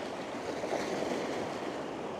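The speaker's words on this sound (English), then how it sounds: "Here comes another big wave." A large ocean wave breaking and washing ashore on New Zealand's west coast, a loud continuous roar of surf with wind buffeting the microphone, with no voices.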